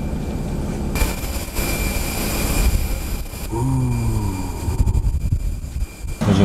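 An airplane's jet engines roaring steadily nearby, a loud broad rush with a rising whine midway; no talking over it.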